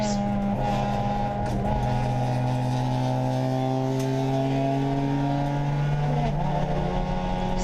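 Race cars run the first lap of a race at a national event. A loud in-car engine drones steadily through rising and falling gear pulls, with other cars faintly audible around it.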